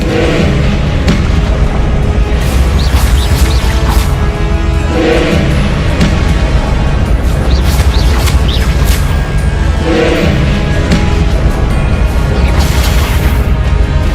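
Spell blasts in the video game Hogwarts Legacy, with Bombarda and Confringo fired during combat, land as loud repeated booms and crashes over dense, continuous battle noise.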